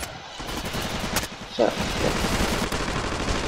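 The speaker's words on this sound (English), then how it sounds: "it's 20 rounds isn't that much for an assault rifle, but it's fast, it's good." A 20-round assault rifle fires in Ravenfield as a dense rattle of rapid shots, fairly loud and continuous, while someone talks over it.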